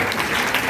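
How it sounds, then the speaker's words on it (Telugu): A church congregation clapping during a worship service, a dense, steady wash of many hands clapping together, loud and continuous. "చప్పట్లు కొట్టండి."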